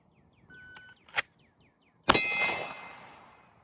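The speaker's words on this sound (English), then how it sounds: "I'm shooting at a little C-zone target, so we'll see." A Smith & Wesson M&P Competitor HD steel-frame pistol fires at a small C-zone steel target. Two sharp metallic impacts clang; the second rings out and decays over more than a second, fairly quiet overall.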